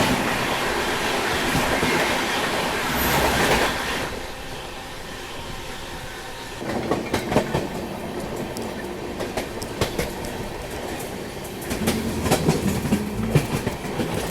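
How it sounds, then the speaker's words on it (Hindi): The New Delhi–Lucknow Shatabdi Express passes close by on the tracks, a steady loud rumble with rhythmic clickety-clack of wheels over rail joints throughout, with no talk. "और ये क्रॉस हो रही है नई दिल्ली लखनऊ शताब्दी एक्सप्रेस।"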